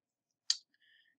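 A single crisp computer mouse click lands on a login button, followed by a faint, soft electronic tone in an otherwise silent setting.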